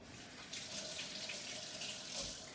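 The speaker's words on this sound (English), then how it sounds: "Let me wash my hands really quickly." A kitchen tap running steadily while hands are washed, a continuous hissing splash of water at moderate distance.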